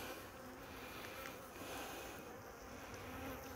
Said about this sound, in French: J'aime pas écraser les abeilles.